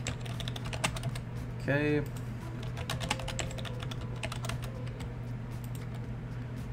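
Typing a root password on a computer keyboard during a CentOS 8.1 install in VirtualBox on Windows, heard as a run of soft, irregular key clicks under a steady hum, with a brief spoken word.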